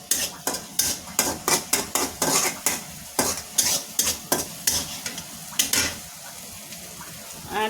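Crushed garlic and onion, pounded on a grinding stone, fry in a pan with a steady sizzle under a rapid, rhythmic series of spatula scrapes and knocks that pause briefly near the end.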